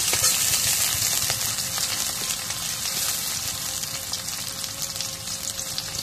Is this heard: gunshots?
no